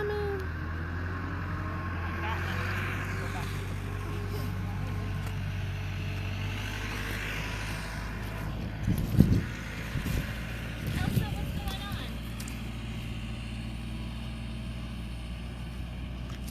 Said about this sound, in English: Driving by in the forklift